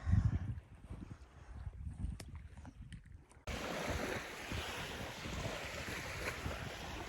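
Beach waves and wind: a continuous broadband wash of surf, with low, buffeting gusts early that give way to a steady, fuller hiss of wind and water, moderately loud and with no talking.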